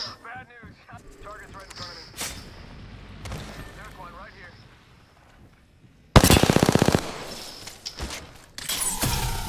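Automatic gunfire from Apex Legends breaks out in loud, rapid bursts near the end after quieter stretches with a few scattered shots, while someone talks over the earlier part.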